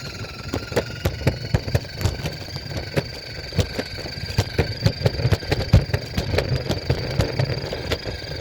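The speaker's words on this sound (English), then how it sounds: "My motorcycle go too fast." Motorcycle engine idling nearby, a steady low rumble with rapid uneven pulsing and rattly clicks throughout, no talk over it.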